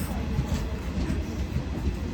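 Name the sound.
moving train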